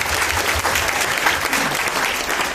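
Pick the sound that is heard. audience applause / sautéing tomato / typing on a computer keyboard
audience applause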